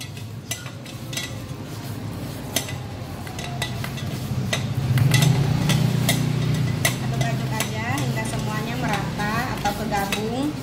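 A utensil stirs a bread dough mixture of flour and other ingredients in a bowl, giving repeated scraping and clinking knocks against the bowl over a low steady background hum.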